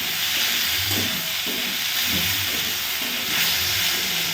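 Water hits a hot pan of spiced bata and mrigal fish curry with cauliflower and cumin, cooked in a village, producing a loud, continuous steamy hiss that swells and fades slightly, with no voices.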